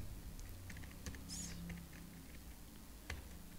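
Fingers type on a computer keyboard while entering figures into an Excel spreadsheet, with scattered light key clicks in short irregular bursts and several sharper taps, all close and fairly quiet.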